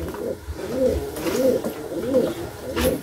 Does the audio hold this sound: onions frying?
no